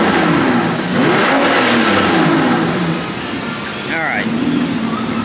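A car engine with stock exhaust revs up and settles, with a deep throaty exhaust note and voices talking over it.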